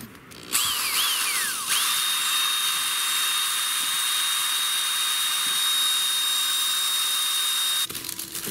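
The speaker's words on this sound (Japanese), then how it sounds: "初めて電動ドリルが役に立ちました。" A high-pitched electric drill with a wire brush stripping paint from a motorcycle part spins up and runs steadily for several seconds with a harsh grinding whine, then stops abruptly near the end.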